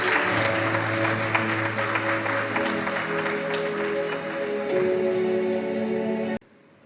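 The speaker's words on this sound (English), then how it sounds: "Please join me in a warm round of applause to welcome" Dense, loud audience applause at an AIM Asia Week 2024 innovation event welcoming a speaker on stage, sustained steadily for about six seconds before cutting off abruptly.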